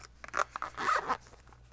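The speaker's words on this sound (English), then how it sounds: "A nice little zipper pouch." A small knife zipper pouch is handled up close, giving a few quick rasping zipper pulls and soft fabric rustles in a quiet room.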